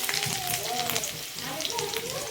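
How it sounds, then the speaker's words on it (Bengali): Chopped garlic and ginger frying over a high flame in oil left over from frying pakoras for chili chicken, a steady close sizzle and crackle with a voice talking over it. "কুচুনো আদা দিয়ে ভালো মতো একদম হাই ফ্লেমে এটাকে ভেজে নিতে হবে"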